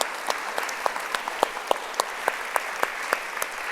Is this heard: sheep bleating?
no